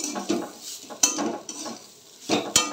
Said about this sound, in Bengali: এদিকে বসিয়েছি বিট আর আলু দিয়ে ভাজা করছি